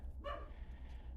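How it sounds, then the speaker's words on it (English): Dogs bark in the distance near a welding practice area, giving one brief faint bark over a low hum. "You can obviously hear the dogs in the background."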